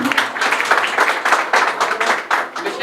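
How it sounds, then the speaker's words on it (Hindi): Audience applause and clapping at a launch ceremony for a Pakistani social media association, a dense, steady burst of many hands filling the space for about three seconds, loud and close. "तो जोरदार तालियों के साथ मिशकात खान"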